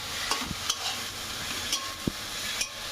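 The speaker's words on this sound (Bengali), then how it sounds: "বাঁধাকপিটা একটু নাড়ার পরে বাদবাকি যে সবজিগুলো আছে সবগুলো একসাথে দিয়ে আমি এটা ফ্রাই করে নেব।" Shredded cabbage and mixed vegetables stir-fried in a pan for a diet atta chowmein: a soft steady sizzle with scattered scraping clicks from the stirring spoon, close and moderately quiet.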